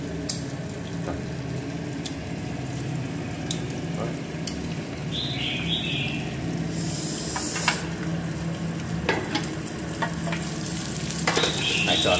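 Fish cakes frying in a pan give a steady, close sizzle throughout, with light stirring and scraping clinks over the top.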